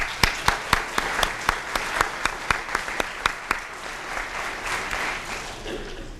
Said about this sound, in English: let's give a round of applause to them all